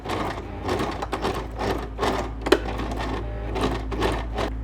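Home sewing machine stitching a line across a fabric Christmas angel, a close rhythmic chatter of needle strokes in quick bursts with brief pauses between runs.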